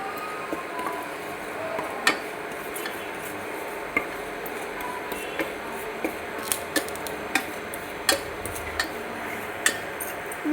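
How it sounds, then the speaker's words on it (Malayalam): Chili powder and turmeric being stirred together in a bowl, a steady soft scraping mix broken by scattered light clicks and taps of the utensil against the container, close and fairly quiet. "ഇത് നമുക്കിതെല്ലാം കൂടി ഒന്ന് ജസ്റ്റ് ഒന്ന് മിക്സ് ചെയ്തെടുക്കാം"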